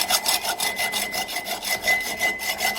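A narrow strip of stock, 7/8 inch wide, hand-sawn to make L-shaped brackets for mounting fuel rails: a close, steady run of about a dozen rhythmic rasping strokes with no talk.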